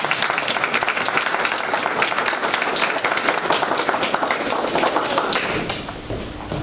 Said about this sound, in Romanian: Hai să aplaudăm.